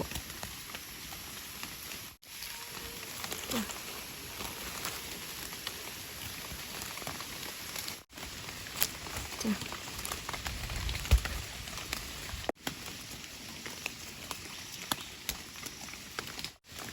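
Faint, steady rain patters in a soft continuous hiss in a forest, with scattered drops tapping now and then.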